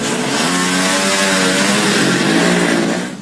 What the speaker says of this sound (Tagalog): May mga nakasakay lang daw sa maiingay na motorsiklo sa unahan.